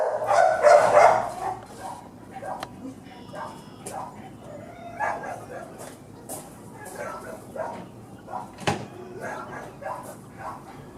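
Dog barking and yipping inside a kennel, a loud burst of barks at the start followed by quieter yips and whimpers, with a person talking throughout.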